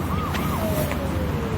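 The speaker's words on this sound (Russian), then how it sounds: "Услышав звук полицейской сирены" A police car siren wails with a rising and falling tone near a traffic accident scene, heard under heavy broadband road noise and steady rumble.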